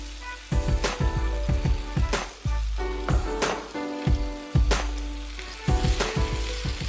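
Chopped parsley sizzles in butter in a pan, a close, bright frying hiss broken by repeated sharp stirring clatters and spatters at an uneven rhythm.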